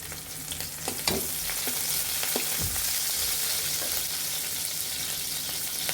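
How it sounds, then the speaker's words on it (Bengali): Chopped onions and green chillies fry in a pan with a constant close sizzle, broken by several sharp stirring clicks and scrapes near the start, with no speech. "পেঁয়াজ কুচিগুলো ভালোভাবে রোদে ভেজে নিতে হবে এভাবে আমরা এখন আমরা কাঁচা লঙ্কাগুলো দিয়ে দেব"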